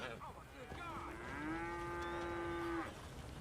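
An ox on Emerald Ranch in the Red Dead Redemption video game gives one long, drawn-out moo close by that rises and holds steady before cutting off, with only faint background sound around it.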